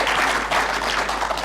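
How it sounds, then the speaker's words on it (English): An audience applauding panel presenters at a conference session, a dense, steady wash of clapping with no voices over it. "they deserve probably another round of applause"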